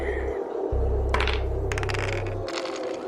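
Dice clattering across a table for a perception check in a tabletop roleplaying game, a few sharp rattling bursts of plastic on a hard surface over a steady low hum, close and fairly loud.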